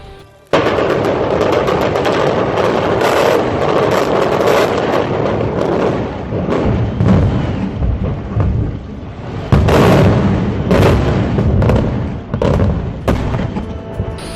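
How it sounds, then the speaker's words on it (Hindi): Multi-storey buildings are demolished with explosives, heard as a dense run of booming blasts and crackling bursts, loud and continuous with sharper peaks along the way. "कसीर मंजिला इमारतों को धमाकों से उड़ाया जा रहा है।"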